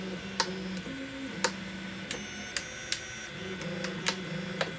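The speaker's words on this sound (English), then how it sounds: "My printer was also exceptionally creaky on both the X and Y axis." An EasyThreed K1 budget 3D printer runs with creaky X and Y axes. Sharp ticks and creaks sound at irregular intervals over a steady mechanical whir and a shifting motor hum, all close by.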